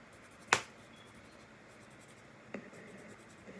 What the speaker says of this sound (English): you're gonna color in with your pencil